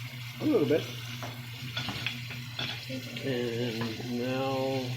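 Squid adobo with soy sauce and chilies frying in a pan while being stirred, a soft sizzle with scraping stir strokes beneath a person talking and other voices nearby.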